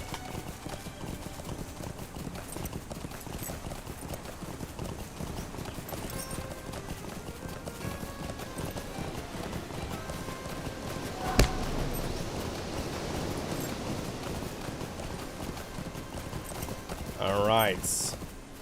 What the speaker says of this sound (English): Ride, my little horse.